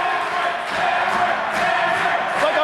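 Wrestling crowd at an IWC indoor show, Southern Comfort versus John McChesney and Jimmy Jacobs, roaring in a steady, loud wash of cheering and shouting with a few surging peaks.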